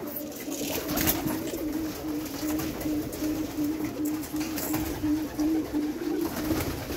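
Pigeons in a home pigeon house, some sitting on eggs, coo in a low, steady, rolling murmur that carries through the whole stretch over faint background rustling.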